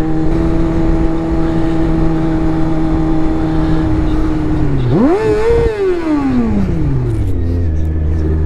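Motorcycle engine droning steadily while riding in traffic, then a sharp rising rev and a falling pitch as the bike slows, loud and close with no talking.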